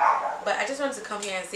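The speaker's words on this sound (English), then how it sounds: "you can hear her barking because she's getting better" A recovering dog at an emergency vet barks briefly near the start, then someone talks over faint background sounds.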